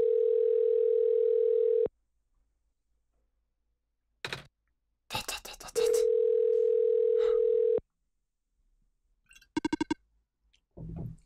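In the video game OneShot, a telephone rings unanswered as a steady electronic tone that sounds in two long bursts separated by silence, with brief clicks and blips in between.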